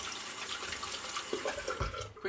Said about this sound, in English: Quickly rinse off the hands